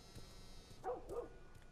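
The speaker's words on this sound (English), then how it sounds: "Is that the neighbor's dog?" In a zombie video game, a dog barks twice in quick succession, faint and distant, over a low, steady game ambience with no talking.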